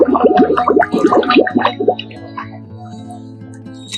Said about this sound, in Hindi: डाउन करने के बाद हमें नीचे सांस रिलीज करना है